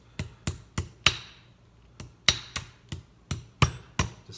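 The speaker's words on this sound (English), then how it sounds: "So really I just took a hammer," A hammer flattens small metal pieces on a flat surface, striking in sharp, close, loud hits, with a quick run of four, a short pause, then a steady series of further blows.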